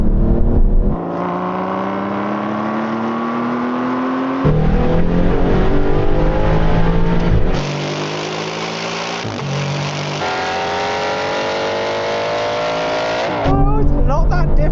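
Aston Martin Vantage GT8 and Vantage GT4 accelerating side by side in a drag race: loud, close engine roar climbing steadily through the revs, with several abrupt gear shifts, continuous and dominant throughout.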